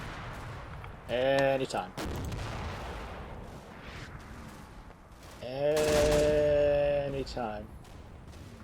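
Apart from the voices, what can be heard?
small arms and mortar fire in Combat Mission video game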